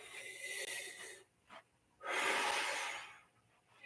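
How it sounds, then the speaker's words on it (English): Deep breathing during a bent-over belly-breathing exercise: a long breathy exhale, a short sniff-like inhale, then another strong, close airy exhale that fades out, with no talking. "Exhale, allow my belly to fill, or inhale."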